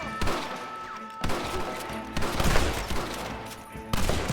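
Gunfire during a Red Dead Redemption shootout with snipers in windows: repeated sharp shots and impacts in a dense, busy stretch, with bursts at the start and again near the middle and end.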